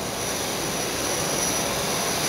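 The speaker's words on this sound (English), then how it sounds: "This is the tiniest plane I've ever been on in my life." Inside the cabin of a tiny propeller city-hopper plane in flight, the engine drones as a loud, steady, unbroken roar that fills the space, with no voices.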